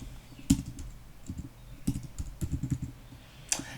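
Typing on a computer keyboard while setting up a Salesforce custom object, a few scattered clusters of close, light key clicks and taps with pauses between bursts.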